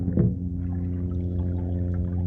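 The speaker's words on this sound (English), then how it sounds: "That's the sound we want to hear. Gurgling." Water gurgles out of a sump pump drain outlet at the street, a low, steady bubbling flow with a brief splashy burst at the start, close and fairly quiet, with no talk.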